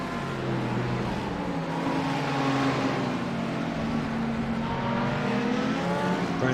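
A green number 17 race car in a grand touring event runs on the track, its engine a steady loud drone with shifting pitch as it holds speed, alone without talk.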